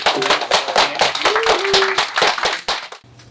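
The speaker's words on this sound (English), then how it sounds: "let's give them a round of applause" An evening audience gives a round of applause for two guests, steady dense clapping close and loud for about three seconds before cutting off abruptly, with a voice briefly audible over it.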